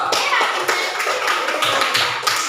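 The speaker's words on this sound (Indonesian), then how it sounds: "Tolong kasih tepuk tangan ke kelompok Pak." A classroom group claps for another group, a steady patter of many hands lasting a couple of seconds at moderate loudness, with no speech.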